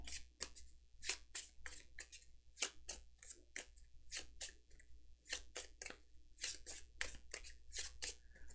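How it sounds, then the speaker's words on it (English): A deck of game cards for the Arkham Horror living card game, Dunwich Legacy campaign, is shuffled in a rapid run of crisp, close riffles and snaps, repeated bursts with short gaps, with no talk. "And I said I was going to shuffle this before we draw from it."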